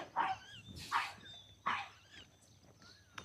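A dog barks a few sharp times on a residential street in Innisfail Estate, Queensland, the barks medium-near and spaced apart over a quiet background.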